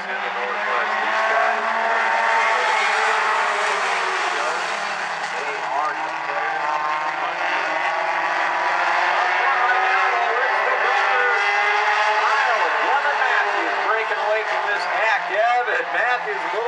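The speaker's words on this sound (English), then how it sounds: "DNS Light Truck and Auto Mini Stocks Heat Race number one. About to do their thing." Mini stock race cars roar past during a heat race at South Sound Speedway, a loud sustained engine drone with shifting pitch as the pack circles, heard under an announcer's running commentary.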